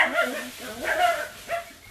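Several dogs bark and yip in a quick, uneven run of short calls at moderate distance, carrying over a quiet room during a hip-opening power yoga class.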